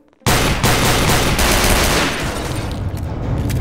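Rapid automatic gunfire from an overpowered weapon in Garry's Mod DarkRP, starting abruptly and then pouring out as a loud, unbroken close-range barrage.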